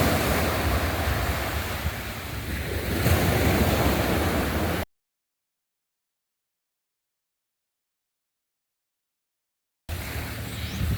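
Ocean surf breaking on a public beach in Tobago, a steady loud wash of waves with wind buffeting the microphone, cutting to silence midway before the surf returns.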